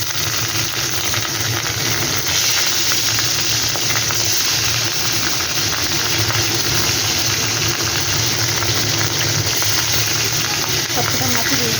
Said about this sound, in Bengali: তেলটা গরম হয়ে গেছে, এবার আমি এক এক মাছটা দিয়ে দিই